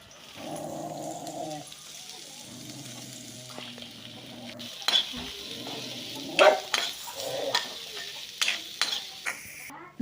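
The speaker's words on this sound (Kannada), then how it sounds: "ಅದಕ್ಕೆ ಈರುಳ್ಳಿ ಹಸಿಮೆಣಸು ಹಾಕಿ ಫ್ರೈ ಮಾಡ್ಕೊಳ್ತಾ ಇದ್ದೀನಿ" Onion and green chilli frying in coconut oil, a soft steady sizzle with scraping stirs and a few sharp utensil clinks toward the end, heard close and alone.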